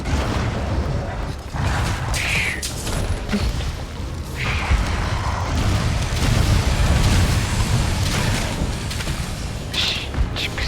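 Accumulated blast explosion in Monster Hunter: World: heavy, rumbling booms roll through the clip, with a couple of sharper bursts early on and sustained thunderous noise in the middle and later stretches.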